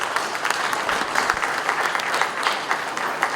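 Audience clapping fills a hall at a ceremony in Lualaba, Congo, steady and dense throughout with scattered sharper claps and a faint murmur of voices underneath.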